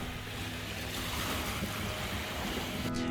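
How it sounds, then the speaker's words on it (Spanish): Strong Patagonian wind blows by Lake General Carrera on the Levicán peninsula, a steady, moderately faint rush with a surf-like roar and no voices. "ideal para contemplar el lago y sentir la fuerte brisa patagónica"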